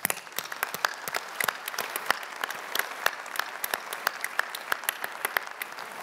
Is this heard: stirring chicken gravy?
no